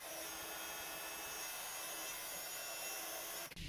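A heat tool blows steadily and loudly, melting red glitter embossing powder over embossing ink on a paper cherry cut-out for a handmade card, cutting off abruptly near the end.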